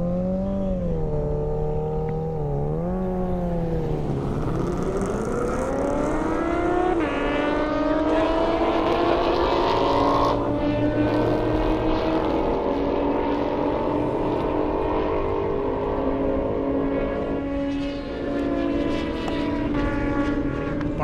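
A Roush car and a Kawasaki Ninja ZX14R race down an airstrip at a speed event. Engines climb sharply in pitch as they accelerate, then hold a loud, sustained high drone with faint voices underneath.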